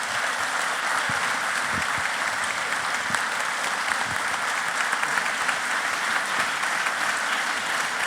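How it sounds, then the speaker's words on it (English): A full auditorium audience claps steadily after an author reading, a dense, even patter of many hands continuing throughout without voices. "you got them all applauding"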